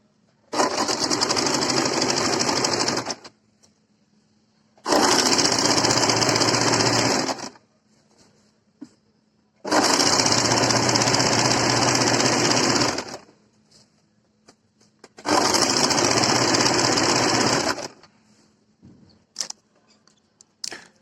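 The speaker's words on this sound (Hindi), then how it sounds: "तो चलिए अब हम इस पर सिलाई लगा के इसको तैयार कर देते हैं" A sewing machine stitches an A-line kurti in four long, loud bursts of about three seconds each, separated by short pauses, with no one speaking.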